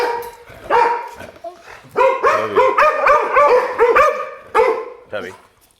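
Several dogs bark, yip and howl together in excited bursts, close and loud, with drawn-out wavering howls between sharper barks, early in the morning indoors.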